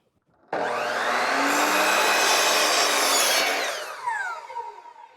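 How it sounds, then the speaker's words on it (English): A wooden board is cut with a power saw outdoors during a shed build. The sound is a loud, steady, close buzzing cut that starts abruptly, holds for about three seconds, then winds down with a falling whine. "now he's getting ready to cut that other piece of the board."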